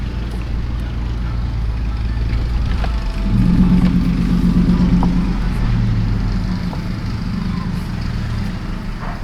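Steady road noise and engine drone from a vehicle cruising toward Irvine, a continuous low rumble with a brief swell of engine tone partway through, close and even with no talking.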